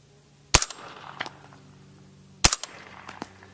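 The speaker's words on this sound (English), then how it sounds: "Yeah, it's subsonic. I'm not hearing the crack." Two sharp, close reports from a suppressed subsonic 300 Blackout rifle, spaced about two seconds apart. Each one is followed by brief echoes and rattles, with no voices.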